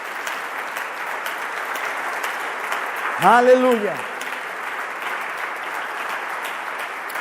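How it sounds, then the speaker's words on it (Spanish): A church congregation claps steadily throughout, a continuous wash of applause while a voice briefly calls out over it. "¿Cuántos le dan un aplauso al Espíritu Santo?"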